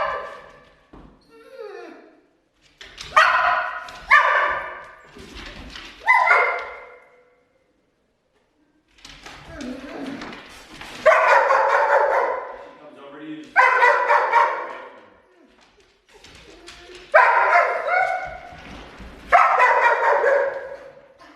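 A young dog barks and yips in repeated bursts, loud and close, with pauses between volleys and a voice speaking in places.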